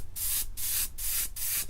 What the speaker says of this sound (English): I wish this was spraying out just a little heavier than it is in this airbrush.